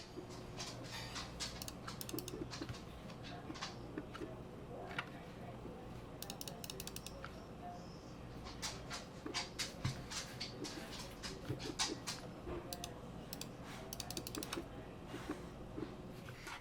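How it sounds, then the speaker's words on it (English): A Razer Viper Mini gaming mouse clicks up close in rapid, irregular bursts of crisp mechanical clicks, with faint scraping between the bursts. "I think the clicking is phenomenal"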